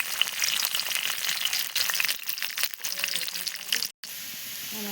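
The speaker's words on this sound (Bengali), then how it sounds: "আগে রসুনটা ভাজা লাগবে।" Garlic fries in a little hot oil in a wok, giving a close, continuous crackling sizzle with small pops that cuts out briefly just before the end.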